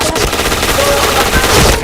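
Loud, dense automatic gunfire from a video game firefight rattles in a continuous rapid burst, close and dominant throughout.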